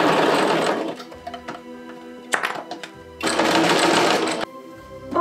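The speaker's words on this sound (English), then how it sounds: "So I'm gonna go for a normal straight stitch on this side." A sewing machine runs a normal straight stitch on a Marin Kitagawa Christmas cosplay piece in two loud, steady bursts of about a second each, with a brief stop and handling clicks between them.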